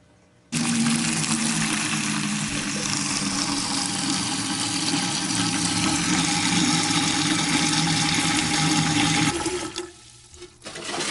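Water pours steadily into a Berkey stainless steel water filter being leak-tested, a loud continuous close-up rush lasting about nine seconds before cutting off abruptly.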